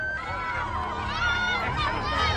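A crowd of residents shouts and jeers at a murder suspect arriving under police guard in Pontianak, a dense, loud, continuous clamour of many overlapping voices close by.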